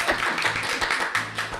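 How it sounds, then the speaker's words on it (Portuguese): A small live audience at a podcast recording claps for the guest, with close, sharp, uneven hand claps packed densely across the short burst. "vamos dar salva de palmas para o Cid"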